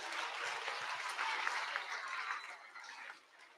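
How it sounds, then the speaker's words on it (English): Audience at a school assembly applauding, a steady burst of many hands clapping at close range that holds for a few seconds before thinning out at the end. "Let's give them all a round of applause."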